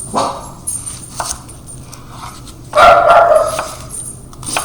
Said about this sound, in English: So a little bark in the background.